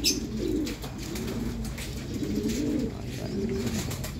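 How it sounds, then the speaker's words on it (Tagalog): Several pigeons coo steadily in soft, overlapping rounds, close by, with a low rumbling background throughout. "Ibon niya na Taiwan."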